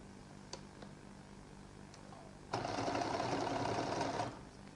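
A sewing machine double-stitches a seam on a lady's jacket, running in one close, steady whirring burst of about two seconds after a quiet stretch with a few faint clicks.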